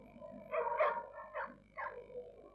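Dogs at Battersea Dogs Home, kept under the arches at six in the morning, give three or four sharp, close barks with short gaps between them over a quiet background.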